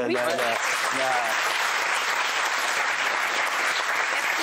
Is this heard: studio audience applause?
yes